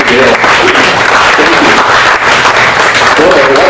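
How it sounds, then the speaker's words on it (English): Audience applause at an event honouring a pastor: loud, dense, sustained clapping from a large crowd, close by, with a voice speaking over it. "Let's give a round of applause to Pastor Dale."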